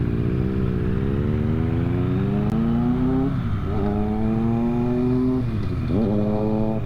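A Triumph Bonneville T100 motorcycle's engine drones loudly and close, its exhaust note rising through gears in repeated upward sweeps with brief dips between shifts.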